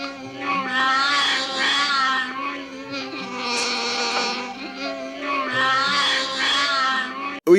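Wookiees in the Star Wars Holiday Special let out long, continuous, high-pitched wailing growls, loud and close, with several strained, yowling voices overlapping almost without pause.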